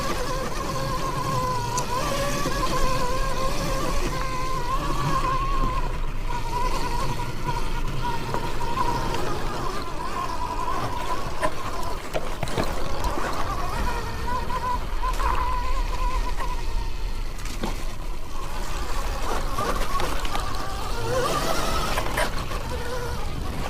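An Arctic Leopard snowmobile on the Hoyt Mine Trail, its engine droning steadily and close with a constant buzzing tone and broadband rush that lasts throughout the ride.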